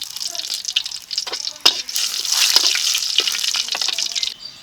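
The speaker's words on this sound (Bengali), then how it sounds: "কড়াইতে এখন সরিষার তেল দিয়ে দিচ্ছি এই তেলে দিয়েছি দুটো তেজপাতা দিয়েছি গোটা জিরে" Bay leaves and whole cumin sizzling in hot mustard oil in a wok, a bright crackling hiss with small pops and a sharp spatter burst, fading slightly toward the end.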